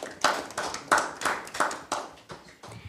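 Audience clapping at a university quiz challenge event, with a steady run of close, overlapping hand claps for about three seconds and no voices.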